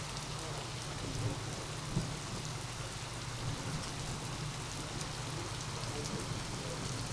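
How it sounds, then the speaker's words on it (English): Heavy rain pours steadily outdoors during a thunderstorm, a dense continuous hiss with low rumbling underneath, as the backyard starts to flood. "Look how hard it's raining outside."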